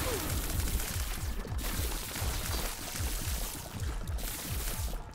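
Rapid bursts of gunfire in a video game ring out loud and continuous, with repeated rhythmic shots layered over a dense, busy game soundscape and no talk.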